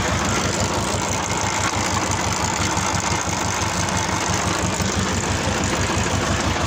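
A tractor runs with its PTO engaged, driving a Kuhman potato digger during a potato harvest, a loud, steady, rhythmic diesel chug and mechanical clatter that fills the whole clip without pause.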